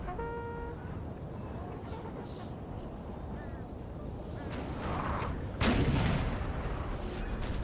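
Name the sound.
artillery fire in a Napoleon Total War 3 online battle (video game)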